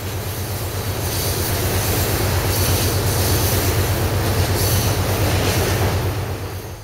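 A small Dutch railways locomotive running in the Trainz simulator game, a steady rumbling roll of wheels and engine with faint rhythmic clatter, loud and continuous throughout.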